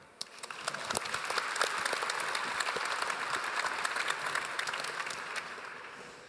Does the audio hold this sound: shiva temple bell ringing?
no